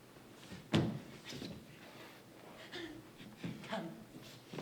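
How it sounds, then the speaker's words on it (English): Knocking at a gate during a Shakespeare scene, a few separate hollow thuds spaced irregularly, the first loudest, set against quiet room noise with faint breathy sounds between them. "There's knocking at the gate."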